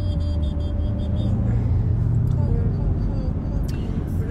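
Low, steady road rumble inside a moving car, a constant droning hum with faint engine tone throughout, heard beneath people chatting.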